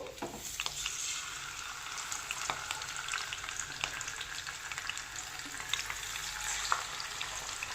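Marinated fish sizzles in hot oil on a bed of curry leaves in a pan, a steady close frying hiss with occasional sharp crackles and pops, no speech.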